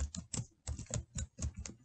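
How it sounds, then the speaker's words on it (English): Close, quiet typing on a computer keyboard, a quick irregular run of about a dozen crisp key clicks in short bursts with brief gaps, no voices. "now I'm going to start typing in"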